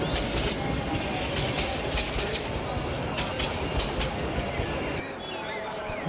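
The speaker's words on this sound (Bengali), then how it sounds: "ঠিক কয়েক সেকেন্ডের মধ্যেই ট্রেন এসে হাজির হলো।" Train pulling into a village station at night in a cartoon horror scene, a dense steady rumble of rolling wheels with hissing noise that drops off near the end, a voice faintly under it.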